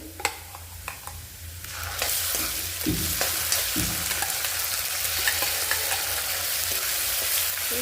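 Ground masala hits browned onions in a pan for Veg Kolhapuri, the sizzle swelling louder and denser after a few spoon taps and scrapes, then holding a steady close frying hiss.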